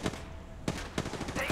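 Gunfire in the mobile shooter Apex Legends Mobile: a few sharp, punchy shots in quick succession, rapid and fairly close, over a busy game background.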